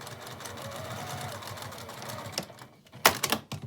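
A sewing machine stitches two layers of a zip case together at a lengthened stitch, running steadily and close for most of the stretch, then trailing off into a few sharp clicks and knocks.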